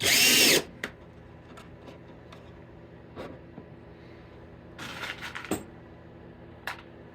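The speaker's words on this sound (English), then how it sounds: "I'm just gonna go ahead and tighten on the PC board to the box here." A power drill drives half-inch number 6 screws to fasten a PC board into a box, opening with a loud, short whir and followed by softer, intermittent bursts and clicks against a quiet background.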